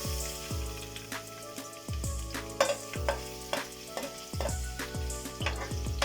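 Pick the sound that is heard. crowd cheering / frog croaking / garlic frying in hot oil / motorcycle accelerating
garlic frying in hot oil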